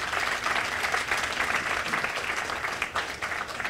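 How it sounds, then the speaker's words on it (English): A crowd applauds young kids after their Vande Mataram performance at an Indian Independence Day celebration at an embassy residence, a steady moderate wash of clapping with slight swells. "A big round of applause for them."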